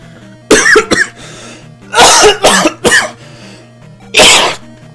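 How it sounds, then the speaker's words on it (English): A person coughs several times in harsh, close bursts, a quick pair followed by a cluster and one last loud cough, over faint steady chiptune music from a retro Zelda 2 game. "that cough just messed me up because it made me take my hand off the controller"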